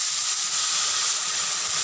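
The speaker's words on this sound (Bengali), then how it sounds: "এই যে বেটেছিলাম আদা রসুন টমেটো কাঁচা লঙ্কা, এই বাটাটা দিয়ে দিচ্ছি" Hot oil hisses steadily as a ground paste of ginger, garlic, tomato and green chili goes into the pan, a close, even sizzle with no talk over it.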